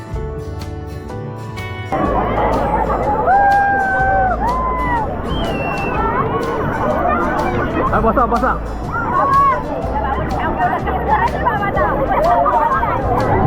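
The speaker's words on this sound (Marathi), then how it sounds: "मित्रांनो संडे असल्यामुळे गर्दी तर आहेत" A Sunday crowd of families at a dam near Alibag: loud, continuous babble of many voices with shouts and excited calls, some people talking close by.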